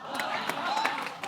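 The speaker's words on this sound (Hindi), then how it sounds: "एक बार हेजल के लिए जोरदार तालियां" Studio audience applauding Hazel Keech on The Kapil Sharma Show, a dense steady wash of clapping and crowd noise filling the whole short stretch with a few sharper peaks.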